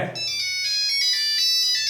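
A bright electronic Nokia 3310 ringtone melody plays clearly and alone, steady tones repeating over about two seconds.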